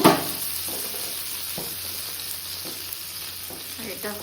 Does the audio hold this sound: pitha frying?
yes